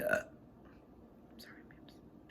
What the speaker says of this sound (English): So do my burps, apparently.